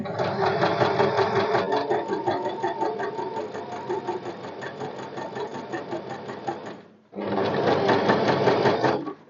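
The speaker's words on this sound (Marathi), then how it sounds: "पुन्हा आहे त्या वरून शिवायला सुरुवात करायची" A sewing machine stitches a blouse back, running in a loud, close, rapid whir for about seven seconds. It stops briefly, then starts up again and runs steadily to the end.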